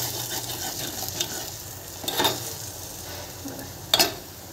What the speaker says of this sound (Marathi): मसाल्याला चांगलं परतून घेते